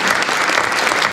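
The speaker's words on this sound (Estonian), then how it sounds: "Jah, aplaus." Audience applause at a civil society conference in Järvamaa, a dense burst of clapping from a crowd that cuts off abruptly at the end.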